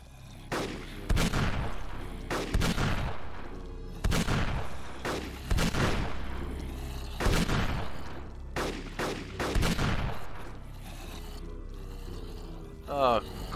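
Gunshots ring out in a Minecraft roleplay game, with about a dozen loud, sharp cracks in irregular bursts over steady background noise, interspersed with voices talking.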